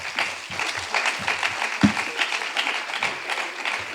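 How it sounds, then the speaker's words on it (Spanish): An audience claps in farewell for Antonio at an environment-day workshop, a moderate scattered applause of many hands, fairly steady with a few sharper claps standing out. "despedimos a Antonio con un fuerte aplauso."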